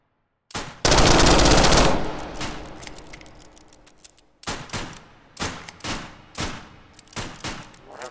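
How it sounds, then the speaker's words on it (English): Saiga shotgun fired in the H3VR virtual reality game: a loud, sustained burst of rapid blasts followed by a series of separate, evenly spaced heavy shots, close and with no talking. "I'm going to have to use the Saiga on him."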